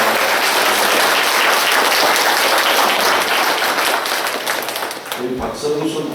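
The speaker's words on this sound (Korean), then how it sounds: "우리 서로 힘찬 박수로 서로를 축하하겠습니다" Congregation at a church ordination thanksgiving service breaks into loud, dense applause that fills most of the stretch, thinning toward the end as a voice begins speaking over the fading claps.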